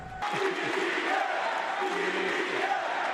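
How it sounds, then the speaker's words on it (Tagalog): A crowd shouts and cheers at the State of the Nation Address in the Philippines, a dense, loud roar of many voices holding steady throughout. "Lalo nang umalingaw ang sigawan."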